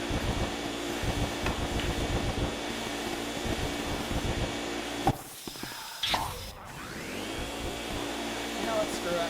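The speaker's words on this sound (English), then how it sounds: "I'm trying to vacuum this." In the Luigi's Mansion video game, the vacuum roars with a steady, loud whooshing suction that briefly cuts out and then starts back up, with game sounds and someone talking over it.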